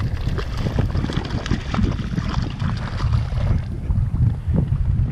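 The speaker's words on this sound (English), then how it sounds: "Trying to manage this doggone wind." Wind gusts loudly across a lake from a fishing boat. The roar buffets the microphone continuously and rises and falls in uneven surges.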